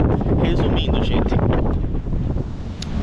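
Heavy, steady wind gusting hard on a stormy day in Russia, a loud unbroken rush and rumble of buffeting air hitting the microphone throughout.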